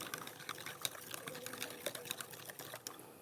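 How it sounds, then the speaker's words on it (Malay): A solution being stirred in a flask with room-temperature water in a school science lesson, a quiet, irregular series of light clinks and taps with faint watery swishing, close by and soft. "Saya kacau."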